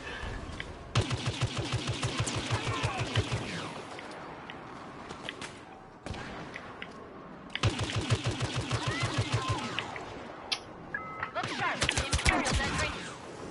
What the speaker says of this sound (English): I'm just gonna post up right here and shoot everyone in the back